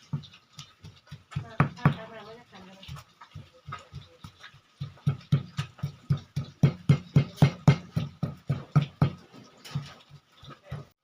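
Rapid rhythmic thuds of a pestle pounding cooked fish in a mortar, a long steady run of dull knocks, close by, after a brief irregular start.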